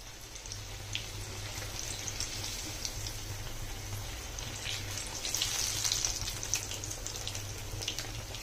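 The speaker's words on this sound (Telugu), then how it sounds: "ఇలా బ్రౌన్ కలర్ వచ్చే వరకు ఫ్రై చేసుకోవాలి." Aloo bajji, potato fritters in batter, frying in hot oil until brown, a steady close sizzle and bubbling that swells slightly midway, with no talk over it.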